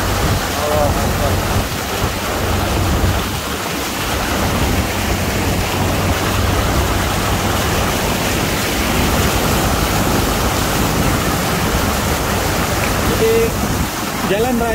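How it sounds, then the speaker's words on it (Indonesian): Flash flood water rushes along a road in a residential area of Mecca, turning it into a river, a loud continuous roar and churn throughout with a voice speaking over it. "Panjang jalur jalan raya ini digenangin air, jadi menjadi sungai."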